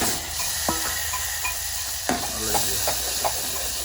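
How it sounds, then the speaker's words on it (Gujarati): Asafoetida, cumin and green garlic sizzle in hot oil, a steady bright hiss with scattered spoon clicks and scrapes against the pan, close and continuous with no voices. "તેલ ગરમ થઈ ગયું છે તો આપણે હિંગ નાખી દેવું પહેલી, નાખી દેવું જીરું, પછી નાખી દેવું લીલું લસણ"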